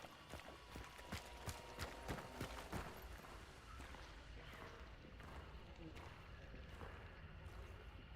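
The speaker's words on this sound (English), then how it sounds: "I heard a horse." Horse hooves in the Soul Survivor video game: faint, rapid clip-clop beats of a horse moving, clearest early on and then settling into a steadier low patter, with talk over it.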